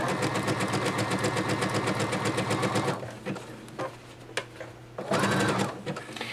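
A domestic sewing machine stitches a fabric face mask, a loud rapid rhythmic whirring for about three seconds, then short stop-start bursts and another fast run as back stitches are made.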